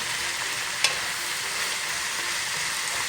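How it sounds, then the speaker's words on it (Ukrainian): Cabbage frying in a pan, a steady close sizzle with a brief clink of stirring near the start, no voices. "Не забувати помішувати нашу капусту."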